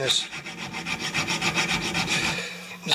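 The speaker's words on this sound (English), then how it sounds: "bolt is pretty rounded off, but you'd be surprised what you can do with a file." A metal hand file rasps against a rounded-off bolt on a mower in a steady run of rhythmic back-and-forth strokes, close and fairly loud, with no talking.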